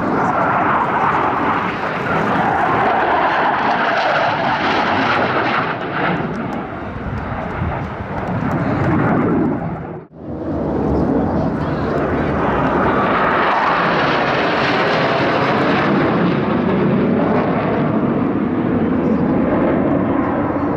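A US Navy Blue Angels jet at an airshow over Pensacola Beach makes a loud, sustained roar that builds and fades. It cuts out briefly around the midpoint, then swells again as the aircraft passes.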